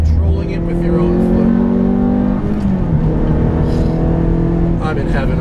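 A Ferrari F430 with a manual gearbox pulls through the gears, its engine note rising and dropping in pitch with each shift, loud and close from inside the car, with speech over it.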